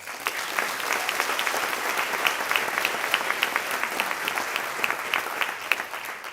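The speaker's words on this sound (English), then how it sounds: "Please give them a big round of applause" A crowd applauds at a varsity club all-sports awards night, steady sustained clapping from a moderately near audience, filling the room evenly with sharper individual claps scattered throughout and no talking over it.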